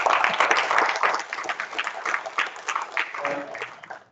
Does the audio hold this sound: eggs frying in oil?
no